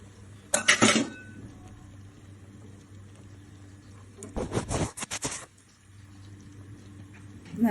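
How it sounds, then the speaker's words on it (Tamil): Cooked dal (lentils) is mashed in a pressure cooker pot, with two bursts of scraping, clattering utensil-on-metal strokes, the second longer, separated by a quiet stretch. "விசில் வந்ததும் அந்த பருப்பை எடுத்து நல்லா கடைஞ்சிக்கோங்க."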